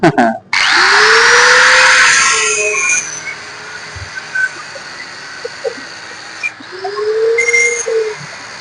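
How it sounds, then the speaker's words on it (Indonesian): An angle grinder cuts into part of a water pump dynamo, giving a loud, close, high-pitched whine and grinding screech that fades after a few seconds, followed by quieter tool noise and a second brief spin-up near the end. "Kalau ini kita potong dengan gerinda ya, kita potong pangkal."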